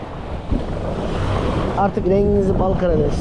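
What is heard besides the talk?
wind and choppy water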